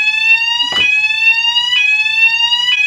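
A fire alarm sounds loud and close with a steady high electronic tone, punctuated by three sharp rhythmic pulses about a second apart, with no voices over it.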